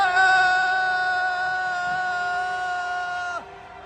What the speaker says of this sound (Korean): 조작 검사들에게 보리는 저주의 함성 5초간